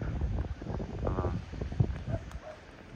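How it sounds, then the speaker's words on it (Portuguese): Strong wind blowing during outdoor tree cutting, a steady broadband rush buffeting the microphone for the whole stretch, with faint scattered knocks and rustles underneath. "o vento tá muito forte"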